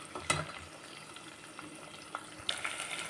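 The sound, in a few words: curry leaves frying crisply in oil for wheat rava upma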